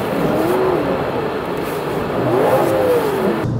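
A car engine revs repeatedly while traction control cuts the power, two rising-and-falling engine swells that bog down instead of climbing freely, loud and close with no talking.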